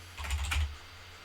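A few quick keystrokes on a computer keyboard, close and soft, a brief cluster of clicks over a low steady hum.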